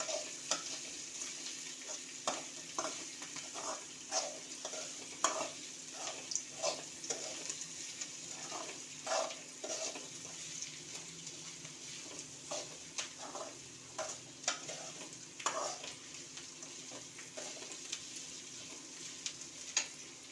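A coconut and dal mixture is sautéed in a pan for village-style dal dosa. Soft, rhythmic scraping taps of a spatula repeat steadily over a faint, low sizzle.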